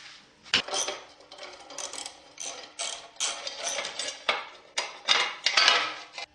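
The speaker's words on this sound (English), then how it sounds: "bolts that I can remove with a 10mm ratchet" Close, loud ratcheting clicks from a 10mm ratchet wrench loosening skid plate bolts on a WR250 dirt bike, in rapid repeated bursts of metallic pawl ticking with brief pauses between strokes.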